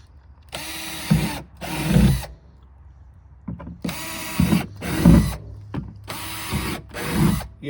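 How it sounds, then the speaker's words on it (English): A power drill bores holes into the bottom of an upturned plant pot, with six close, loud whirring bursts of about half a second to a second each, separated by short pauses. "get you a drill bit and you flip them over and drill you some holes in the bottom"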